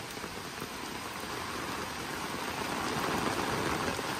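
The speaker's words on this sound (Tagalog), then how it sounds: "mas malakas ang ulan ngayon. Kaya yung agos ng patubig, napakabilis" Heavy rain pours steadily during a typhoon and flood in Bulakan, Bulacan, Philippines, mixed with the dense rush of a fast-flowing irrigation channel, a constant loud wash that builds slightly toward the end.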